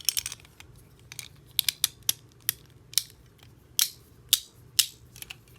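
Beyblade Divine Belial.Nx.Ad-3 parts with a Belial 2 core snap and click together, giving about a dozen sharp, close plastic clicks in uneven bursts against a quiet background.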